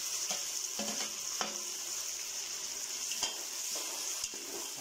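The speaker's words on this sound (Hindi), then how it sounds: "साथ में टमाटर ऐड करेंगे" Tomatoes stirred into a frying masala of ginger-garlic paste for moong masoor dal: a steady sizzle with scraping stirs and a few light pot knocks, close and fairly quiet, with no talking.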